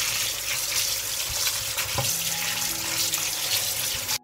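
Tap water runs steadily into a sink as cherry tomatoes are washed, a close, continuous hissing splash with faint handling bumps and no talk.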